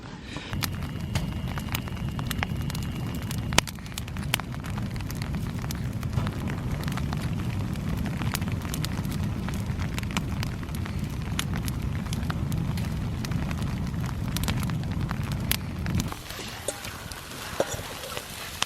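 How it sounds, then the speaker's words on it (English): Campfire crackling at a wild camp in the Scottish Highlands, with foraged mussels smoking in the embers, dense irregular pops and snaps over a low steady roar, close and moderately loud, easing near the end. "The fire has built up enough heat now"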